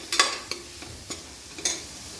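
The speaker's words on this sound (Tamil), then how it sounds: "இது எல்லாத்தையும் சேர்த்து நல்லா மிக்ஸ் பண்ணுங்கள்" Spoon stirring spices and masala in a frying pan for goat leg soup, four or five distinct scraping strokes over a soft sizzle, close up with no talking.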